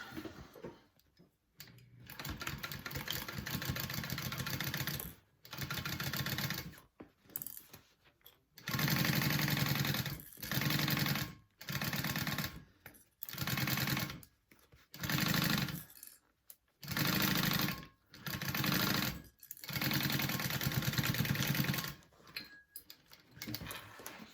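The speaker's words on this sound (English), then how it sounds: "I'm gonna sew up the pocket here and then we'll top stitch" A sewing machine stitching up the pocket of a tote bag in a series of short whirring bursts, about a dozen runs of rapid stitching separated by brief pauses, close and clear.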